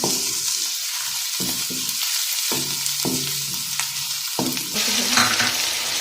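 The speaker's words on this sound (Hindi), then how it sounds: "अब हम इसको 2 से 3 मिनट तक ऐसे ही भूनेंगे।" Onion, garlic and ginger paste sizzles and fries steadily in a pan for gola kabab, with a spoon scraping and stirring now and then, close and continuous.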